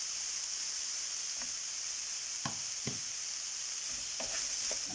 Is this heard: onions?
yes